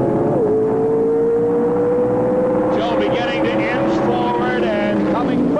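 Drag racing cars scream down the strip at the 1978 NHRA Sportsnationals, a loud sustained engine drone with rising pitch toward the finish, under steady race commentary.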